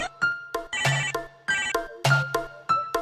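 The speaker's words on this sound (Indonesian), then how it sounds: "aya telepon." A telephone rings with a repeating electronic ringtone, a series of bright tonal bursts in a steady rhythm, loud and close with no talk over it.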